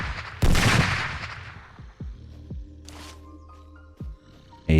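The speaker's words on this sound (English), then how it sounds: "Now, he is going to move at us once we start shooting at him." Sniper rifle fire in the video game Surroundead: several loud, sharp gunshots with ringing tails, spaced about a second or more apart, with a heavy blast at the end.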